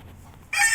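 Black Texas breed rooster crowing, a brief, sudden bright call that bursts in after a quiet, faint rustling start, close and clear.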